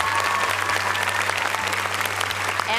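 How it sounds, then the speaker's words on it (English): Enthusiastic applause and cheering from a school audience at a national science competition grand final, loud sustained clapping from a crowd throughout. "Big round of applause for your schoolmates"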